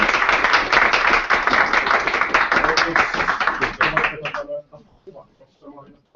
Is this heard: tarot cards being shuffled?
no